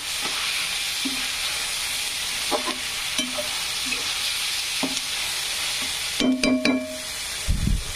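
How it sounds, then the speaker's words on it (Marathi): Onion frying in a pan gives a steady soft sizzle, with occasional clinks and scrapes of stirring, close and fairly quiet, with no voices. "छान तळू द्यायचा कांदा"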